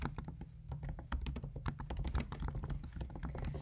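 Keys on a computer keyboard are tapped out in a quick, uneven burst while a backup name is typed, the clicks close and steady with a low hum beneath them.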